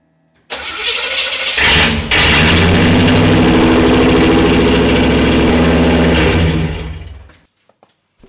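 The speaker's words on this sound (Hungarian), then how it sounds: "Olyan hangja van, mint egy 69-es Hemi Chargernek." Car running without its rear muffler: the engine fires up and roars loudly, holding a deep, raspy, rumbling revving for several seconds before cutting off into near silence.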